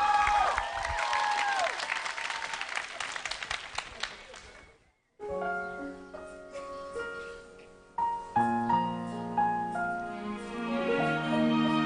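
A studio audience at a televised singing competition bursts into dense applause to welcome a singer, with a voice briefly over it, before the clapping cuts off and instrumental music begins.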